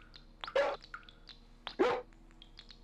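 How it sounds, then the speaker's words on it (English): Two loud, sharp dog barks from an angry dog in the Gato Roboto video game, spaced about a second apart, with faint chirpy game sounds between them. "That is an angry dog"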